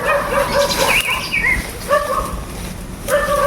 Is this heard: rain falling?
no